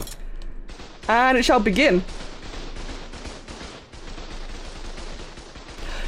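An automated turret in ARK: Survival Evolved opens fire with bullets in a dense, continuous stream of gunfire. It continues steadily for several seconds, with a voice speaking briefly over the start.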